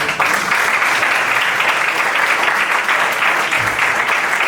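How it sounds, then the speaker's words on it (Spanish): Loud, sustained applause from an audience at a poetry award ceremony honouring poet Luis Alberto de Cuenca, dense steady clapping throughout with no break. "un aplauso para Ruy Alberto de Cuenca"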